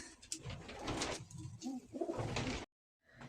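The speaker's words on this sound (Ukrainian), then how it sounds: "ось вони разом сидять" Pigeons coo steadily and close up, with soft rustling mixed in, before the sound cuts off abruptly near the end.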